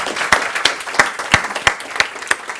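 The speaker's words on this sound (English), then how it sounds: "So give her a round of applause." A round of audience applause follows a talk. It is moderately close, with a few distinct, rhythmic claps standing out over a thinner background of clapping.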